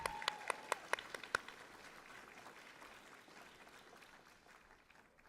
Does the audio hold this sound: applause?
yes